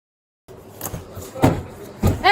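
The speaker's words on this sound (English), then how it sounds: "Hey, stop kicking the door!" Someone kicks at a door during a police call to a home: three hard, separated thuds about half a second apart, with a voice beginning to speak at the very end.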